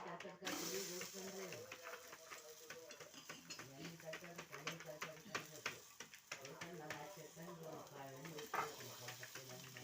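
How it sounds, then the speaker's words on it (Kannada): Masala chapati made from rolled wheat dough cooks on a hot griddle with a continuous soft sizzle and hiss. A voice talks over it faintly and nearly the whole time. "ಕಲಸಿದ ಗೋಧಿ ಹಿಟ್ಟನ್ನು ಚಪಾತಿ ಥರ ಲಾಟಿಸಿ ಹಂಚಿಗೆ ಹಾಕಿ ಬೇಯಿಸಬೇಕು."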